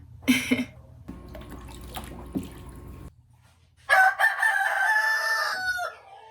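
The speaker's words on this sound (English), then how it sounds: "So these are both my roosters." A rooster crows loudly and close by, a long strained call after some earlier clucking and shuffling noises.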